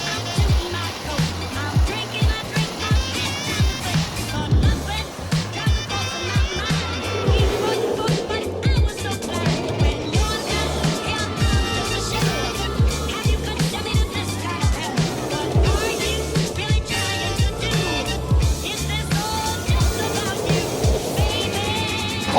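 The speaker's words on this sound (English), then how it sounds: "let's experience Jersey Devil Coaster" Riding the Jersey Devil Coaster at Six Flags Great Adventure: loud rushing wind and rattling track rumble with surging swells, with voices and shouts from riders mixed in.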